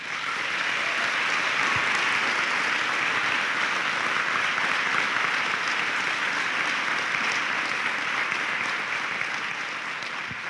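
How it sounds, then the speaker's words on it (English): A large commencement ceremony audience applauds parents and family, a dense, even wall of clapping that holds steady for about ten seconds and eases off slightly at the end. "I'd ask you to join me in a round of applause for your parents and your family."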